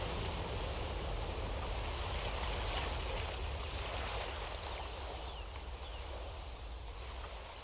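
Nature water sound used as Foley in a music track, a soft continuous trickling stream wash with faint insect-like high chirps, moderately quiet and steady throughout.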